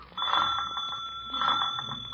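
A bell rings as a radio drama sound effect, a steady bright electric ring sounding close and loud, pausing briefly and then ringing again, with no talk over it.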